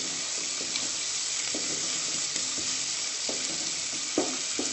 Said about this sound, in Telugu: కొంచెం ఫ్రై అవ్వనివ్వాలి. తర్వాత మనం ప్రిపేర్ చేసుకున్న ఈ గ్రేవీ యాడ్ చేసుకున్నాం.